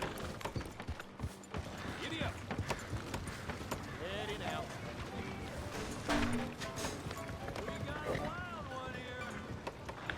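Horse hooves clop rhythmically in Red Dead Redemption 2, riding along over a busy game soundscape with someone talking over much of it.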